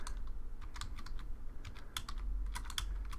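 Steady, quick typing on a computer keyboard close to the microphone, with a run of fast irregular clicks and no speech.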